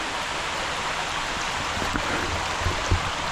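Steady broadband rush of a waterfall on Candlewood Hill Brook, continuous and even throughout, with a couple of faint knocks near the end.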